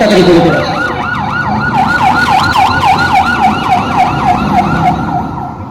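An ambulance siren wails loud and close in a rapid, repeating rise-and-fall, continuous over low traffic-like background noise.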